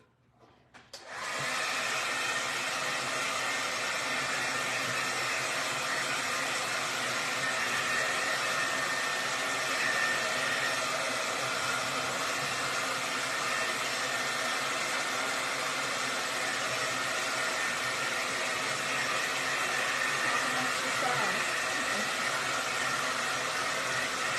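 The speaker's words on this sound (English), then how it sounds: "Now I'm gonna have to blow dry this" A hair dryer blows steadily on a craft Easter bunny decoration, a loud, continuous rushing hiss and hum that starts abruptly and holds unbroken throughout, close up and with no talking over it.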